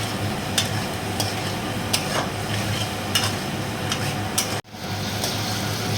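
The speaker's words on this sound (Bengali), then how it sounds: "সব মশলাগুলো এখন একটু বেশ ভাজা ভাজা হয়ে গেছে।" Spices fry in a pan while being stirred for a Bengali potato and crab curry, a soft continuous sizzle broken by regular scraping stirs and light utensil clicks.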